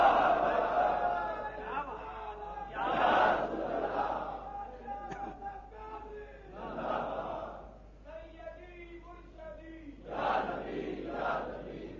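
Crowd at an Islamic religious gathering answering a slogan with loud collective chanted shouts in several bursts, separated by quieter pauses and a speaker's voice.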